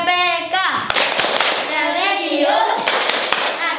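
Elementary school pupils in Indonesia perform a rhythmic clapping chant, with children's voices chanting together over a few sharp, spaced hand claps.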